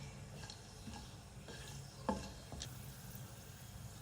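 Whole black cardamom, cloves and black peppercorns fry quietly in a pan, a faint, soft sizzle broken by a few light clicks and one sharper tap of a spoon against the pan.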